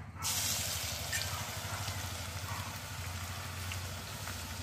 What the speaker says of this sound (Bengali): অল্প অল্প করে আলুগুলো দিয়ে ভেজে নেব।